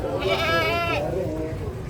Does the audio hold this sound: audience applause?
no